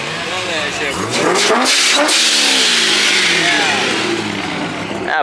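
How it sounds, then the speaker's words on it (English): A highly modified car with a ProCharger supercharger revs hard at a cars and coffee meet, rising and falling in loud sweeping pulls that stay close and continuous throughout, with crowd noise around it. "That Pro charger sounds sick."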